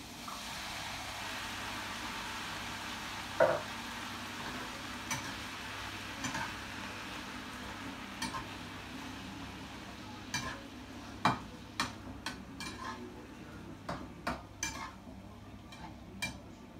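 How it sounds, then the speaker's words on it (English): Chopped tomatoes go into a frying pan of browned ingredients for a lasagne sauce, a soft low sizzle under repeated clicks and taps of a utensil stirring against the pan. "You just want to add your chopped tomatoes."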